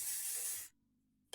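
Got2b Glued hairspray sprayed onto a blue ponytail wig: a single loud, close aerosol hiss lasting about half a second, then near silence and the start of a second short burst.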